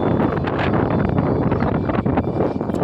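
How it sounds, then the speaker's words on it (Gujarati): Steady wind buffeting the microphone, a loud continuous rumbling roar with gusty swells throughout. "અત્યારે પવન છે ખરો"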